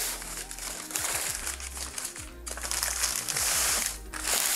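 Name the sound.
unwrapping packaged tomahawk steaks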